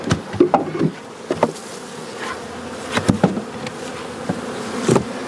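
Honeybees in an overwintering nuc hive on a double screen board buzz close by, a steady drone broken by sharp taps and knocks from handling of the frames.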